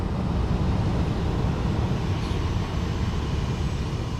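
A variable speed motor under test in a flood, running as a steady, loud, broadband drone with a low rumble that holds even throughout.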